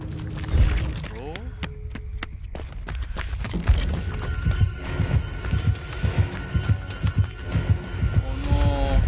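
A thumping heartbeat terror radius in Dead by Daylight, with The Shape (Myers) hunting on Azarov's Resting Place, pulses in a steady rhythm under game sounds and excited chatter from players.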